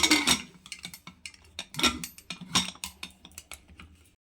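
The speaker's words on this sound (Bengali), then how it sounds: "এবার কুকারের ঢাকনাটা আমি বন্ধ করে" A pressure cooker lid is closed over dal being cooked, giving a close run of sharp metallic clicks, taps and clatters in irregular bursts, with no voices.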